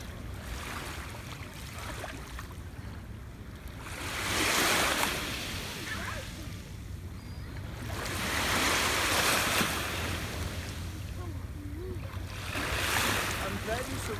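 Ocean waves break and surge at a beach in three broad swells, each rising and washing out over a steady rush of surf and wind noise, with no talk heard.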